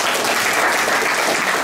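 A round of applause fills a hotel conference room in Accra, loud and dense throughout, a steady wash of many hands clapping with no speech over it.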